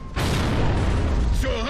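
A sudden loud sniper rifle shot in Gears of War, with a long, booming tail, followed by a voice speaking briefly at the end.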